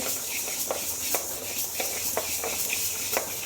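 Spices are dry-roasted and stirred in a pan, a soft crackling sizzle under regular scraping strokes of a spoon against the pan, quiet and close with no talking.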